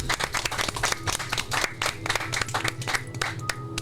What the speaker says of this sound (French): on peut applaudir maintenant aussi nos chroniqueurs